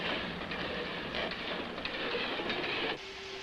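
Train crossing a bridge with a loud, continuous rolling roar and faint rhythmic clatter, which drops away abruptly near the end.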